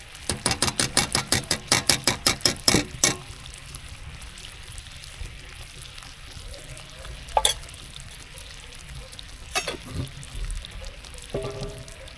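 Ghee spooned into melted sugar syrup for sesame gachak, stirred in a pan with a quick run of rhythmic scraping clicks at first, then a quieter bubbling simmer with occasional single taps and knocks.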